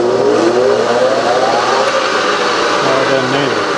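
Briggs 5S machine powered through a 3-phase converter, running at its lowest speed with the back gears out: a steady loud whirring hum with slowly rising and falling tones, continuous throughout.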